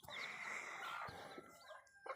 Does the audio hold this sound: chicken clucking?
yes